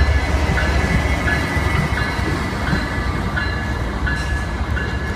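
Train rolling past at close range, a steady loud rumble with a repeating clickety-clack of wheels over rail joints running the whole way through.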